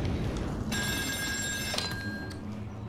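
Old-style telephone bell ringing inside the Still Wakes the Deep game, a bright continuous metallic ring starting partway in and sustained over a low rumbling ambient drone, fairly loud and close.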